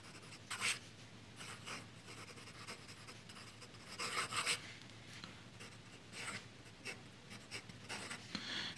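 Platinum fountain pen with an ultrafine UEF nib and Herbin ink scratching across paper, soft close scraping strokes in short bursts with brief pauses, quiet and alone.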